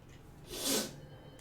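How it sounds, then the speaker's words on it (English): One sharp sneeze bursts out over quiet room tone, then fades. "All the sneezing and the sniffling."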